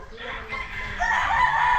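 A gamefowl rooster crows loudly and close by on a game farm, its drawn-out call rising in the second half over a busy background of other fowl.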